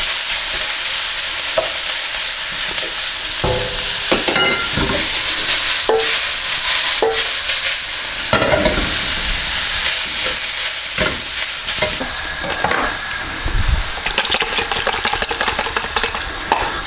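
Vegetable chow mein noodles sizzle loudly in a hot pan while being stirred and tossed, with repeated scraping and clattering strokes breaking through a constant frying hiss.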